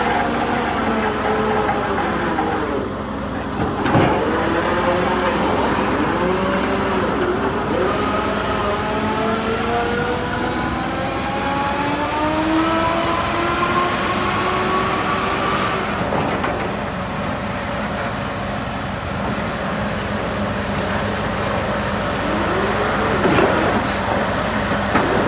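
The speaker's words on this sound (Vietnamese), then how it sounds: "một chiếc xe cuốc đến từ Hàn Quốc ha, thương hiệu là Solar 450 LC" A Korean Solar 450 LC excavator runs with a steady, loud diesel drone close by, as a whining tone rises and falls over it, and there are occasional clanks.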